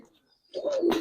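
A male Giribaz pigeon gives one short, throaty coo up close, rising and then dipping after a brief moment of near silence.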